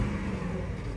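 A Range Rover L322 V8 engine revs after a long idle, a steady dense low rumble running throughout the brief moment without any talk.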